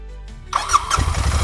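A Royal Enfield Interceptor 650 twin-cylinder with a 270-degree crank starts with a short whirring squeal from the starter. The engine then catches into a close, lumpy, throbbing idle, with no voices.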